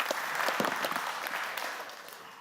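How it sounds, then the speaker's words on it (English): Conference audience applause at a DevOpsDays event in Amsterdam, a short burst of many hands clapping together, fairly loud and tapering off over about two seconds. "Big round of applause."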